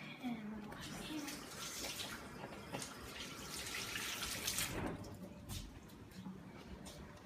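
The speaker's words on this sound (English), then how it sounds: "And I'm gonna wash my hands." Tap water runs steadily as hands are washed under it, with soft splashing and a faint background murmur.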